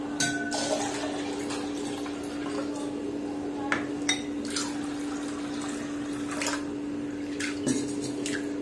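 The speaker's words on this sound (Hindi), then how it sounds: "इसको 3 से 4 बार तक हमको धोना है, जब तक इसका साफ पानी ना आ जाए।" Water sloshes and trickles with soft splashes and drips as chana dal is rinsed by hand in a bowl, over a steady background hum.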